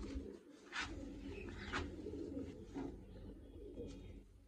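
Domestic pigeons cooing close by, several soft low rolling coos spaced a second or so apart, over faint background noise in a quiet setting in Jammu.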